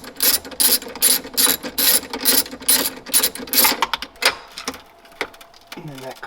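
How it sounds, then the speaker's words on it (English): A ratchet loosens a 13 mm bolt on a BMW battery, a close, loud series of rapid clicking bursts in an uneven rhythm, tapering off toward the end. "we gotta unscrew this from the battery."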